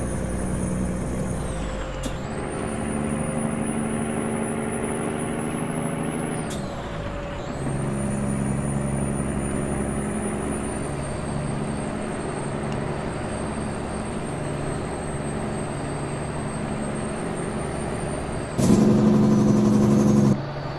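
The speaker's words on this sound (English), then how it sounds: "I'm just going to sit back and listen to the sound of this engine like I always love to anytime that I drive it" Truck engine idling and driving in American Truck Simulator with a long lowboy trailer, a steady low drone with shifting harmonic tones, air brake hisses at the two gear-change breaks and a louder rumbling burst near the end.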